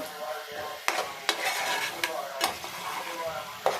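Onions fry in a pan and get stirred, a steady close sizzle broken by several sharp scrapes of the spoon against the pan, with no talking.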